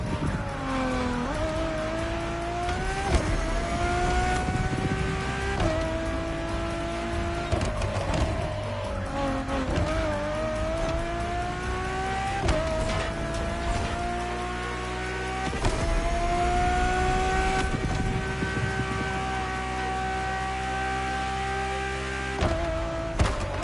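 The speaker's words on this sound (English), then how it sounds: "nothing less than a road-legal Formula One, faster on the track but more civilized on the road, Ferrari went all out" A road-legal Ferrari Formula One-style supercar with Pininfarina design is driven in The Crew Motorfest. A high engine drone rises and falls through repeated gear changes, loud and steady, with no talk.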